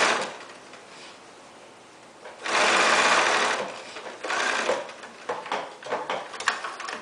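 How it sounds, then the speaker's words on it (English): Sewing machine stitching a set-in sleeve into a garment, running in several bursts: a long steady run in the middle, then shorter stop-start runs with clicks and handling noise between them, close and fairly loud, with no talk. "I sew with my needle down."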